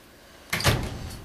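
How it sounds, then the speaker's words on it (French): A door is pulled shut with a single close thud and a short rattle, fairly near, in an otherwise quiet room. "ferme la porte."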